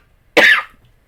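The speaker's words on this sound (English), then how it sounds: "You did yourself in with your coughing there." A single sharp, close cough bursts out once and fades within a fraction of a second, surrounded by near silence.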